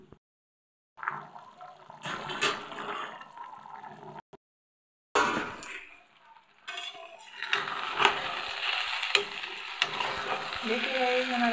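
Rice and bottle gourd cooking in a pan, with a close, continuous sizzle broken by repeated stirring scrapes and clinks of a utensil against the metal.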